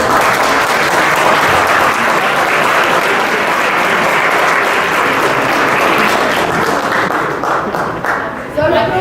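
An audience applauding at a public meeting, with steady loud clapping from a crowd that goes on for several seconds and fades slightly at the end.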